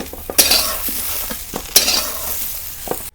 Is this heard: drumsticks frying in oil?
yes